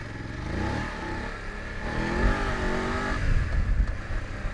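2019 BMW BMW F850GSA adventure motorcycle accelerating, engine note rising and falling through revs with a rough low rumble, moderately loud and steady, no talk.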